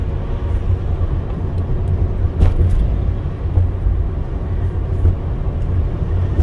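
An Amazon delivery van cruising along the road, a steady low engine and road rumble heard from inside the cab, loud and constant, with a brief bump or rattle partway through.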